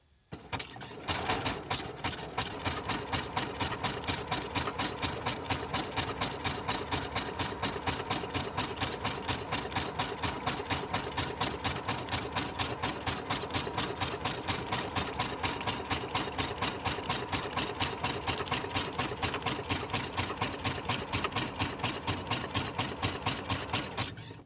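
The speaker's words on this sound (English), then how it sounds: "I'm keeping this edge of the paper lined up with that edge of my sewing machine foot." A domestic sewing machine stitches steadily along the edge of a paper envelope made from music paper, its rapid mechanical stitching rhythm running continuously and close up without pauses.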